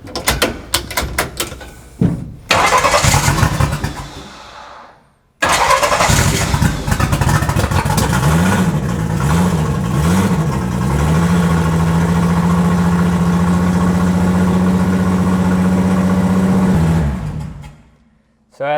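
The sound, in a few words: 1000hp turbo VR6 engine starting and idling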